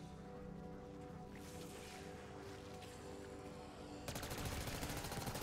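Rapid shotgun fire from a video game, Black Ops 6 Zombies, a dense continuous barrage of blasts over game music and ambience, growing louder and harsher near the end.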